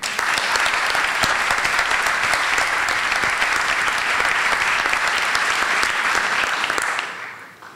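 Audience applause at a novel presentation in a municipal hall, steady dense clapping for the author that holds evenly for several seconds and then fades out near the end.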